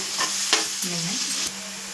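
Onions and carrots sauté in a pan for biryani, a loud, steady sizzle broken by a few sharp spatula scrapes and taps, with no voices.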